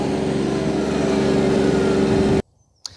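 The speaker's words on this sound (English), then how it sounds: "We've got up to 25 kilometers an hour actually, which is a really good road speed." An Iseki TLE 3410 compact tractor drives along a road at about 25 km/h, its engine holding a steady, loud mechanical drone up close before cutting off abruptly near the end.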